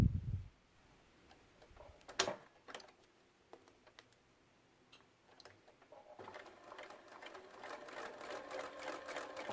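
A sewing machine stitches cording into a fabric strip, running in short ticking bursts at first and then settling into a steadier, busier whir, close and fairly quiet.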